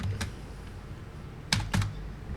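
Typing on a computer keyboard, a few close, crisp key clicks in small bursts against a quiet background, with no talking.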